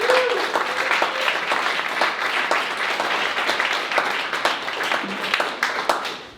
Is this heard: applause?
yes